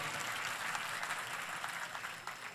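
An audience at Meera Mahotsav claps for the guests on stage, a fairly soft and distant wash of steady applause lasting a few seconds with no talk over it.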